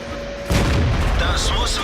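Tank cannon shot in World of Tanks during a Dicker Max replay: a sudden heavy boom with a long rumbling tail, loud and close, and a faint voice under it.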